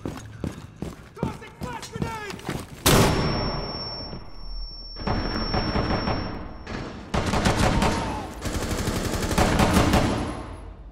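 Rapid gunfire rattles loudly in Rainbow Six Siege, with dense automatic bursts and single shots spread through the clip while voices talk over the action.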